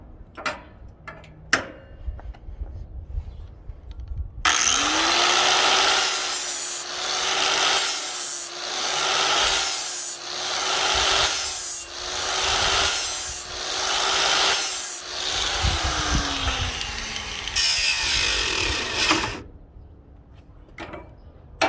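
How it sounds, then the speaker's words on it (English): An angle grinder sharpens a metal blade up close: a loud, sustained whine that swells and dips in rhythmic strokes about every second and a half for roughly fifteen seconds, then stops briefly before a short final burst. "try and keep the grinder at a consistent angle so you do not deviate"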